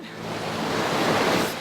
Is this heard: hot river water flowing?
yes